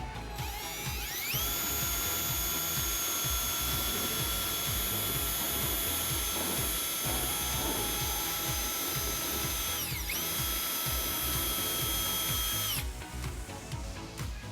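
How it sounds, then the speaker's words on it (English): A power tool with a file bit shaves down the cut edges of an opening during a trailer hitch installation on a 2017 Honda CR-V, making a loud, steady, high whine that runs almost nonstop and cuts off near the end. "we can just take a file or a file bit and we can just shave down the sides to make it look better"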